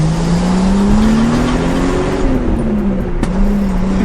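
A Datsun 280Z straight-six fitted with a straight pipe and resonator revs up and eases back in one smooth, loud sweep, with a single sharp exhaust pop near the end.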